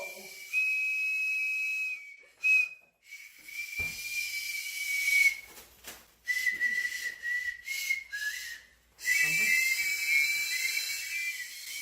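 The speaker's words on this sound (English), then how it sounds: "Sounds like someone's having a whistle for the first time." A shrill whistle is blown in a series of long and short blasts, some wavering in pitch, with brief gaps between them.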